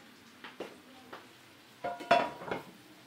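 Frying pans being handled at the stove while making homemade kebab with tortillas: a few light metallic clinks, then louder pan clatter and a scrape, close and sparse with no talking.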